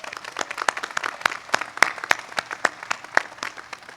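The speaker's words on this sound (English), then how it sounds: "Another round of applause for our faculty award winners." Sparse applause at an undergraduate commencement ceremony for faculty award winners, heard as scattered, distinct claps from a thin crowd, irregular and uneven rather than a dense roar.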